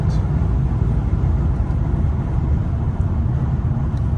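A 2009 Mercedes-Benz CL 550 4Matic AMG coupe driving on city streets and freeway. A steady, low cabin rumble of engine and road noise holds at an even level throughout, with no talking.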